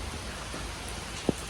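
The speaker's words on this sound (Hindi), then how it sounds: "गाइस बढ़िया बारिश आ गई" Heavy rain falling in a steady, dense hiss at moderate loudness, with one brief sharper drop or tap standing out near the end and no voices.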